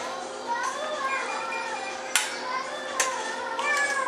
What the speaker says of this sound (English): You hear my crazy fucking kids?